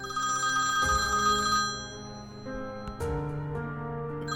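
A telephone rings indoors in two bursts of steady, tonal ringing, the second starting about two seconds after the first. No one speaks over it.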